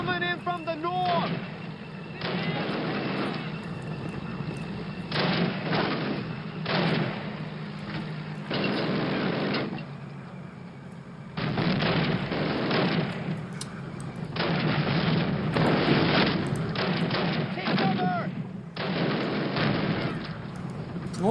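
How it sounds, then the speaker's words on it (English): German tank assault in Call of Duty: United Offensive, with heavy cannon blasts and bursts of gunfire repeating in loud waves across the battlefield, rumbling explosions overlapping one another, and voices heard amid the combat. "German tank coming in from the north"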